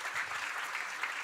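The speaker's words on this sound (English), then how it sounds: "So another round of applause for" A live audience applauds presenters at a national grand final of a presentation competition, with steady, dense clapping sustained throughout at moderate loudness and no one speaking over it.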